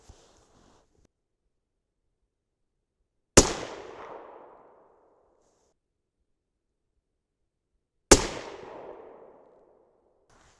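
A 6.5 Creedmoor rifle fires two loud, sharp shots about five seconds apart, each followed by a decaying echo tail, with near silence around them.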